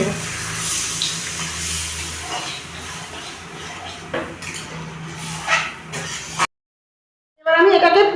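Water pours into a pan of chicken keema ghugni cooking with spiced dried peas and boiled potatoes, a steady splashing stream for several seconds that cuts off abruptly, then a voice speaks.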